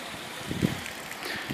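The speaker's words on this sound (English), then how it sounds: "the pump is out of the water and fully open. And you can see the flow we're getting here." Water gushes from a ram pump held fully open above the surface outdoors. The rushing flow sounds steady and broadband, with a brief low thump midway and some wind buffeting the microphone.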